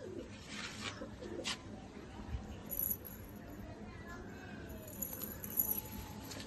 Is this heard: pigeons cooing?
yes